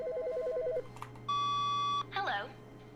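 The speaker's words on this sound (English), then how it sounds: "The phone's going!" An old-style telephone rings in The Stanley Parable Ultra Deluxe, a single steady electronic trill standing out clearly over quiet game ambience, with a short beeping tone before it and a brief voice after.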